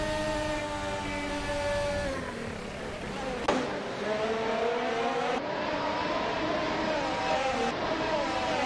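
Race cars in a racing simulator video game at Le Mans, a continuous high engine whine with pitch shifts as gears change, one sharp transient midway, steady and close throughout with no talk.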